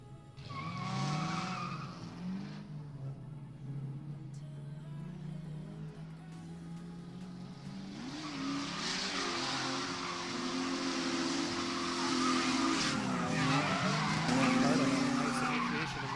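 A Nissan 370Z and a 1998 Mustang drifting in a competition battle, engines revving and rising as tires squeal and skid for long stretches, loud and building toward the end, with a voice faintly beneath.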